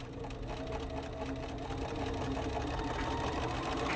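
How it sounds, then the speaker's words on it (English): A sewing machine sewing along a quilt edge gives a continuous, rapid mechanical chatter at moderate level, running steadily without pause and with no talk over it. "Sew all the way to the corner and then stop and wait for me."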